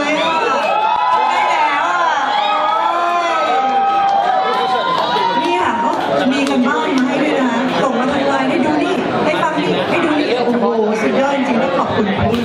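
A large rock concert crowd cheers and shouts continuously, loud and dense throughout, with voices and whoops blending into a sustained roar.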